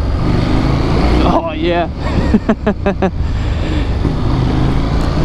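A motorcycle leans through a tight U-turn, its engine a steady close rumble mixed with wind noise, while the rider speaks briefly over it.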